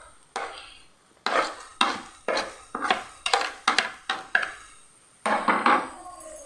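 Chicken and egg being mixed with spices in a bowl, a series of sharp clinks and scrapes in an irregular rhythm, close and fairly loud, with no voices.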